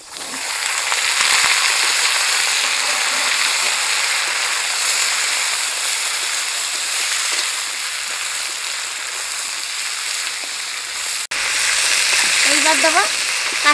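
Potatoes and plantain frying in a pan of hot oil, a loud, continuous close sizzle like heavy rain, with a brief cut near the end and a faint voice after it.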